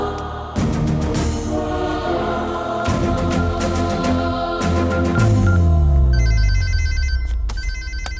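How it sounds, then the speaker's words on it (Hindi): A telephone rings in repeated bursts, its bright electronic trill sounding over background music with a low sweeping tone. "ये इस वक्त क्यों फोन कर रहा है?"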